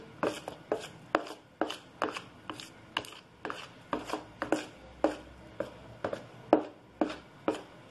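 Pancake batter being whisked by hand in a bowl to break up lumps, a steady series of sharp rhythmic strokes and scrapes, about two per second, close and clear with no talking.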